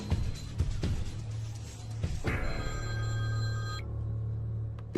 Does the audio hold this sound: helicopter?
no